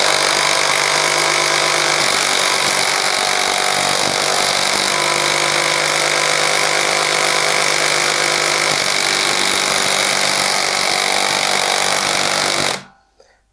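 A Makita HP457DWE cordless drill-driver runs steadily under load with a loud continuous motor whine and grinding buzz, close to the mic, then cuts off abruptly near the end.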